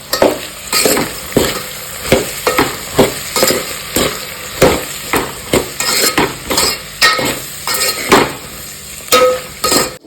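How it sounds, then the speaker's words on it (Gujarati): A spoon stirs a peas and potato curry with turmeric and chili in a pan, making rhythmic scraping clanks against the metal over a continuous frying sizzle, close and fairly loud. "હવે હરખું હલાવી નાખશું."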